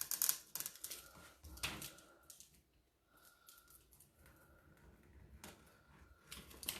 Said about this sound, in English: Just using my razor knife, I'm gonna ride the edge of this trim.